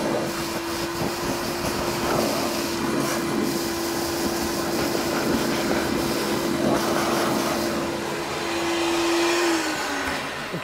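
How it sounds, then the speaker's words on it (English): A vacuum pump runs steadily on an industrial pasta extruder, a loud continuous whine with a constant tone that drops slightly in pitch near the end, alone without talk. "I'm going to vacuum out right now"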